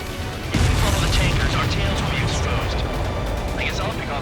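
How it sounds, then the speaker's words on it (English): An explosion in the combat flight game Ace Combat 7, a sudden deep boom that swells into a loud sustained rumble under engine roar, with radio voices talking over it. "What was that explosion?"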